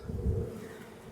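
Honey bees at a brood box make a soft, low, continuous buzz that swells briefly and then settles at a quiet, even level.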